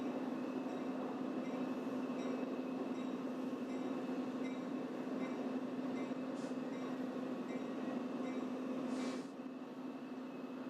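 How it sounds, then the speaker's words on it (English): An Amtrak California EMD F-59PH diesel locomotive train rolls past near the South San Francisco Bay shoreline as a steady, even rumble with a low hum that holds for the whole stretch, without talk. "this streamlined locomotive, one of 9 EMD F-59 PH diesels"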